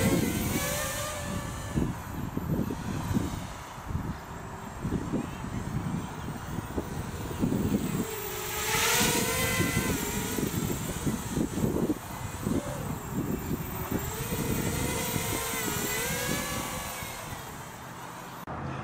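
Small Eachine Q200 quadcopter motors whine on a 2-cell battery, a steady buzzing drone that rises and falls in pitch as the craft speeds up and slows, fairly close and continuous.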